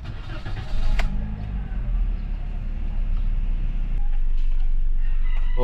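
A 2020 Toyota Vios, under repair for fault code P1589 acceleration sensor learning value, starts with a brief crank and then settles into a loud steady idle close by, while a rooster crows in the background.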